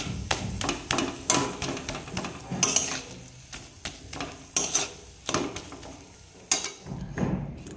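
Cooked pea-shoot greens stirred in a pan, a series of close clattering scrapes and knocks from the utensil against the pan at an irregular rhythm, with quieter gaps between.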